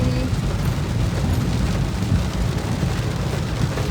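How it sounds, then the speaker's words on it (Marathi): Heavy rain pours steadily and loudly, a dense unbroken roar of water with no other sounds on top. "डेंजर पाऊस आहे"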